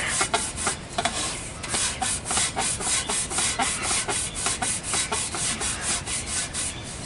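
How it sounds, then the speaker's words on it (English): A Scotch-Brite pad scrubs the cut end of a transmission line clean before a flange is soldered on, making quick rhythmic rubbing strokes, steady and close, with no voices. "That's where the Scotch-Brite comes in to shine the line up."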